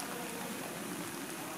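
Steady rain hisses down as an even, dense wash during bus cleaning with a battery-powered single-brush washing machine, with no speech over it.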